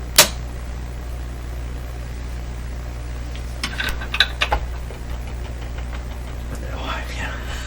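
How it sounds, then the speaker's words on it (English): Frying buzz from the clock motor of a CBS Columbia Model 5330 vacuum tube clock radio, a steady low hum with a crackle heard up close, broken by a few handling clicks and a quiet voice. "it sounds like something frying in there right away. It's the motor to the clock."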